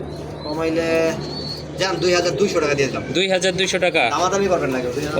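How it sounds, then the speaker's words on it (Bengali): Pigeons coo softly in the background while someone speaks close up over them. "খুবই অ্যাক্টিভ কবুতর"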